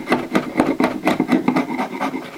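Sandpaper rubbed by hand over a small wooden bird figure, a quick run of close, rasping strokes in a steady back-and-forth rhythm with no talking.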